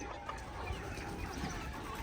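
Chickens cluck softly while pecking at scattered grain on a farm, a faint, low-level mix of overlapping clucks and rustling with no clear pauses.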